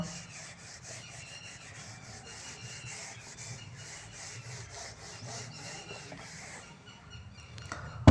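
Steady back-and-forth rubbing of a duster wiping writing off a classroom board during a Class 10 trigonometry lesson, a continuous close scraping swish that runs for several seconds and ends in a sharp knock.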